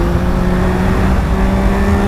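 A 2024 Yamaha MT-09 motorcycle with an aftermarket Akrapovič exhaust revving, its engine humming loudly and steadily with a sustained tonal whine, close up, with no voices over it.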